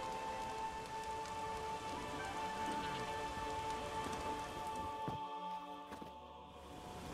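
Steady rain falls in The Witcher 3: Wild Hunt, a dense, even hiss of drops on surfaces that continues unbroken under a faint background tone before thinning slightly near the end.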